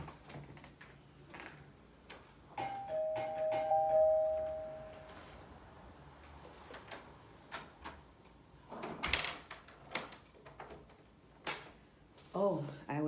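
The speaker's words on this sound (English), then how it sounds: "I hear the doorbell ringing." A home doorbell rings once with a clear sustained chime, followed by scattered knocks, clicks and handling noises nearby.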